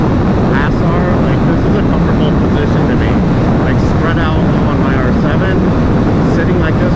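A 2025 Yamaha R3 motorcycle cruising at highway speed, its engine buzzing under a dense, constant roar of wind noise, with a rider talking over it.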